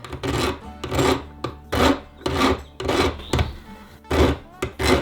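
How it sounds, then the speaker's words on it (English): A hand file rasps across a brass shell casing in about eight steady back-and-forth strokes, each a loud, gritty scrape close by. "You can just file it off."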